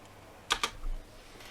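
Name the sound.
typing on a computer keyboard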